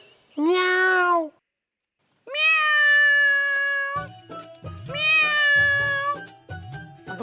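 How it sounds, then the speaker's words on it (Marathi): A cat meows loudly in a Marathi TV serial scene: two long drawn-out meows close by, the first brief, the second longer, then a third over background music with a low rhythmic beat. "अगं बाई कुठे लपून बसले हे मांजर?"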